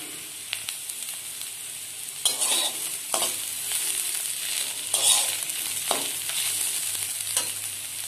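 Roasted cumin frying in a pan of snake gourd tadka, a constant bright sizzle broken by several scraping stirs of a spoon, close up and with no voices.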